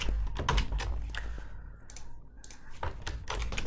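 Close, quick clicking of computer keyboard keys as someone types information into a website setup form, in uneven bursts with short pauses between them.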